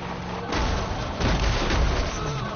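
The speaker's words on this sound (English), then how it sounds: "I just threw a damn grenade." A grenade explosion in the video game Far Cry 5 lands as a loud, broad boom with a rumbling tail, followed by a second heavy blast over sustained battle noise, with no voices.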